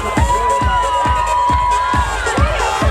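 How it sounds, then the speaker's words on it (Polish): Crowd cheering and applauding at an outdoor strongman contest, loud and close, with rhythmic thumps, a sustained whistle-like tone and a mix of shouting voices throughout. "oklaski, oklaski, rączki w górę"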